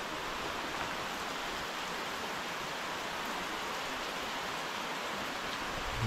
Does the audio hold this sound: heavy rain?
yes